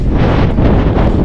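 Strong typhoon wind buffets a microphone outdoors around a house, a loud, continuous low roar with rushing gusts that swell and ease, no voices present.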